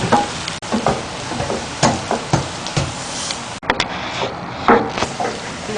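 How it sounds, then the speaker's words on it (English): Onion browning in hot oil for chicken curry, a steady sizzle broken by repeated scraping stirs and knocks of the spoon against the pan, close and fairly loud. "And let it brown a bit. Keep stirring the onion."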